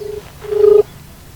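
A single electronic telephone tone sounds loud and steady for about half a second, with a brief fainter beep just before it and low background noise and no voices.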